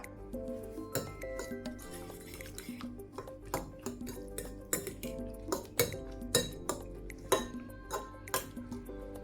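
Vegetables and egg get mixed in a bowl for an oats omelette, with a run of sharp clinks and taps of a spoon against the bowl, fairly close and irregular, over a soft wet background.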